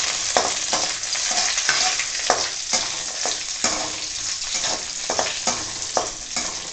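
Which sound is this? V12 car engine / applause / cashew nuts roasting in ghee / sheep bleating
cashew nuts roasting in ghee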